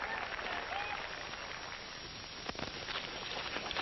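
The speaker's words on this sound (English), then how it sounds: "They're cheering now because of Barrowby won." A crowd at a 1940s Nevada stagecoach race applauds and cheers the winning coach, a steady wash of distant clapping and roaring that holds throughout without any words.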